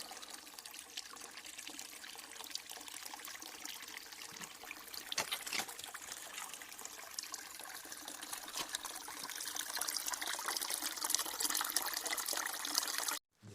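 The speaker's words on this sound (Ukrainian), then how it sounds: "дзюркотить вода. Можна дивитися і дивитися і милуватися звуком такої джерельно чистої води." Clear spring water in a forest babbles and trickles continuously close by, a bright steady gurgle that grows slightly louder toward the end.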